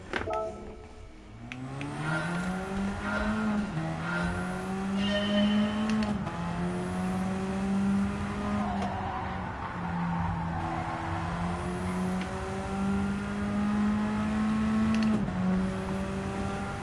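Race car running laps in Gran Turismo 7: a sustained engine whine rising and falling through gear changes and corners, with brief tire squeal, close and continuous throughout.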